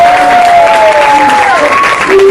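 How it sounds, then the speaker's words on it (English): Audience applause for performers at a children's theatre production of The Little Mermaid, loud and steady throughout, with a sustained sung or whistled tone gliding above the clapping. "You guys give them a round of applause."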